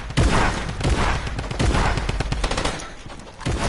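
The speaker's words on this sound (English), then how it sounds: "I really have so bad aim with this stupid drum gun" A drum gun in a Fortnite arena match fires loud, rapid bursts of automatic gunfire that continue almost without a break, with sharp shots clustered close together and no talking over them.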